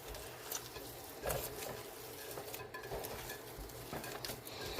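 Bare hands squelch and work through a ground beef mixture for smothered hamburger steaks, a steady soft, wet churning with scattered pats and muffled bumps against the bowl, close and continuous with no talking.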